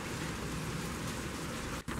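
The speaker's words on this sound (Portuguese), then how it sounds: "Já está chovendo desde cedo, ó." Steady rain falls outdoors, a dense continuous hiss of drops close by with no voices, briefly dipping near the end.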